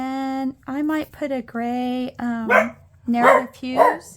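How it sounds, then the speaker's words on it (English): A dog barks in a house, a series of sharp, loud barks in quick bursts close by, partly overlapping someone talking. "Sorry about the barking dog."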